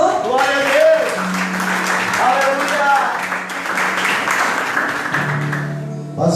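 A church congregation applauding during a family worship service, a steady wash of clapping mixed with voices and sung tones throughout.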